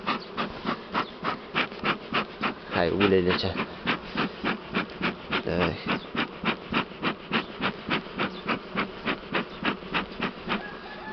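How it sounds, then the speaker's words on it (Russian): A dense swarm of honey bees drones around an open hive, the buzzing pulsing in quick regular surges throughout while someone speaks briefly in the middle. "Сейчас я их подгоняю, этих пчел"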